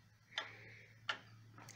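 A Sessions nautical banjo wall clock ticking as its pendulum swings, with three crisp, close, evenly spaced ticks over a quiet steady hum.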